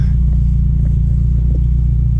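A 1993 Nissan 240SX coupe with a custom exhaust idles with a deep, throaty rumble and steady low pulsing from the exhaust, loud and close, with no talking.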